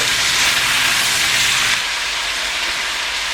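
Onions sizzling in oil in a soup pan on low heat, a steady loud frying hiss that continues unbroken, then eases slightly partway through.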